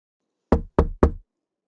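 Three quick, sharp knocks sound on a classroom door, evenly spaced and crisp, alone against silence.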